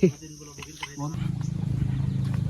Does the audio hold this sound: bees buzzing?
yes